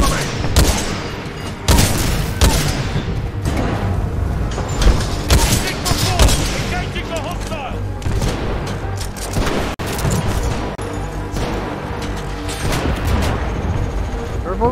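Rapid video game gunfire in Titanfall 2, repeated loud bursts and shots with booming impacts across a busy battle, while a person speaks over parts of it.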